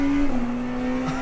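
Race cars in the iRacing sim, a steady engine drone holding close and loud with a slight pitch drop, no voices over it.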